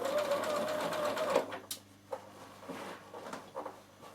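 A sewing machine runs steadily for about a second and a half sewing a long holding stitch on a zippered knitting bag, then falls to soft handling clicks and rustles, close by.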